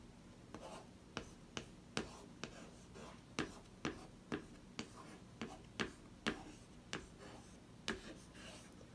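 Writing on paper, heard up close as a run of quiet, crisp taps and scratches in an irregular rhythm, each stroke brief and faint against a hushed room.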